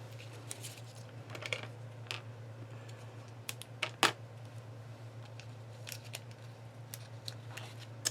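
Scissors snip through a strip of paper in a quiet room, a series of crisp, close cuts, one louder than the rest, over a steady low hum.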